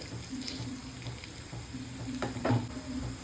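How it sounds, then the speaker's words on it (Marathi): Kothimbir vadi, coriander fritters, frying in a pan until reddish, a steady close sizzle with occasional stirring and scraping sounds, no voices. "आपल्याला थोडा लालसर होईपर्यंत आपल्याला फ्राय करून घ्यायच्या आहेत"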